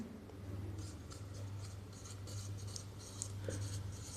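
Chalk or marker scratches out math on a classroom board in short bursts of strokes, close and fairly clear, over a steady low hum with no talking.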